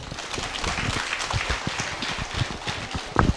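Audience at a Patriji Day celebration gathering clapping together, a dense spread of hand claps sustained throughout at moderate level, with a louder burst near the end.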